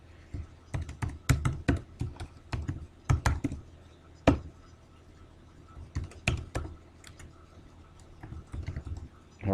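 Bursts of keyboard typing, quick clicky keystrokes in clusters with short pauses between, close and fairly crisp.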